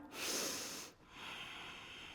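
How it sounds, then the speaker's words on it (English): Deep audible yoga breathing during a Rocket yoga practice: a long, hissing breath through the throat, a short pause, then a second steady breath, close and clear with no talk. "breathe with your deep breathing with sound"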